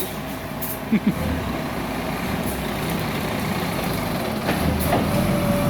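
A large concrete truck maneuvers at a house construction site, its engine rumbling steadily at moderate distance, with a couple of brief knocks early on and faint beeps near the end.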